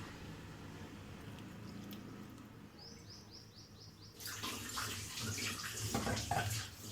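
Water pours steadily into a pan of paneer curry partway through, a rushing splash that swells over quiet room noise, with faint chirps earlier.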